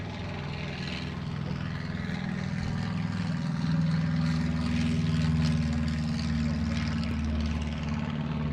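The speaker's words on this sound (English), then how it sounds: "There's a takeoff." A propeller aircraft takes off nearby, its steady low engine drone swelling louder mid-clip and holding, with broadband wind and airframe noise above it.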